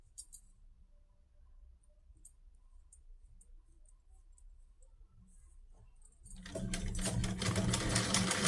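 A sewing machine stitching a salwar starts up near the end, a loud fast mechanical whir that follows several seconds of near silence broken by faint clicks and handling noises.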